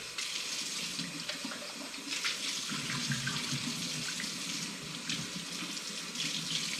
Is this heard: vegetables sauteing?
no